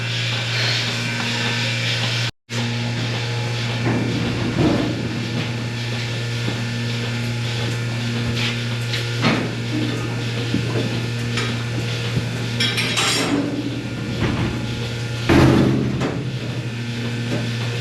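A new steel entry door on a manure-filled barn creaks and clanks noisily as it is worked, with repeated scraping and metallic knocks over a steady low mechanical hum.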